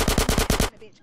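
Automatic gunfire from GTA San Andreas, loud rapid bursts of repeated shots filling the first part, then cutting off into quieter game ambience.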